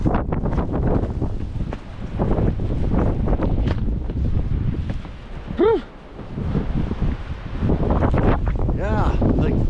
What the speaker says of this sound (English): brace for the wind and the noise